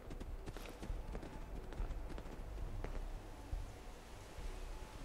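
Footsteps in the video game Fallout 4, a run of irregular clopping thuds close by over a steady windy, rumbling game ambience, with no talking.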